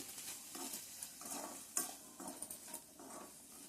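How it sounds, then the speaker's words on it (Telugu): Akakarakaya curry fries in oil in a pan and is stirred, giving a steady soft sizzle broken by rhythmic scraping strokes of the spoon, quiet and close with no talk. "ఒకసారి చక్కగా కలిపేసి"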